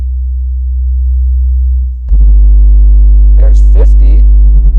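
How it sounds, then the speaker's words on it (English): A Gladen RSX 10-inch subwoofer in a small enclosure plays a steady 63 Hz test tone, loud and constant, while a voice talks over the low drone partway through. "let's start with some test tones"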